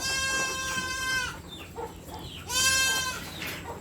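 Goats in a farm pen give two loud, drawn-out bleats close by, one at the start and another after a short pause, with faint farmyard noise between them.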